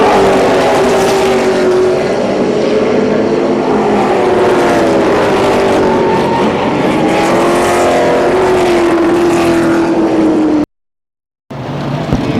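Race cars roaring around the Columbus Motor Speedway track during a main event, a loud continuous engine drone with pitch rising and falling as cars pass, broken by a brief gap of silence near the end.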